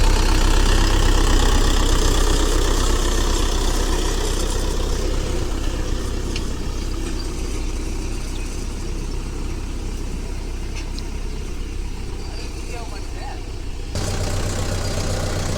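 Mahindra 575 Tech Plus tractor engine running steadily on farmland, a continuous loud low diesel rumble at close range, with a voice talking over it.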